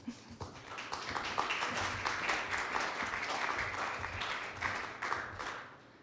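Audience applause welcomes a speaker at a lecture on a priest in Soviet Western Ukraine, a steady wash of many hands clapping that holds for several seconds and then thins out toward the end.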